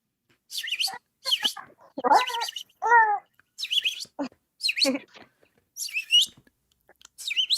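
A person whistles and chirps to mimic a small bird, giving a rapid series of high, bright tweets in short bursts with brief gaps, close and clear.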